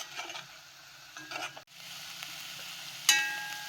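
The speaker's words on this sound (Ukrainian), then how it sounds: "м'яско починає вже підсмажуватися" Chicken meat for Ukrainian kulish fries in a pan as the last water cooks off, giving a soft, steady sizzle with light stirring scrapes and a sharp utensil clink near the end.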